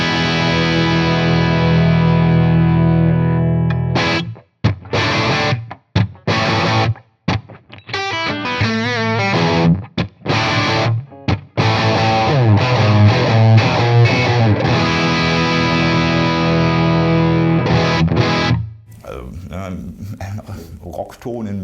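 Stratocaster electric guitar through a Victory The Sheriff 44 amp, playing loud, sustained distorted chords and riffs with brief choppy stops, then fading near the end.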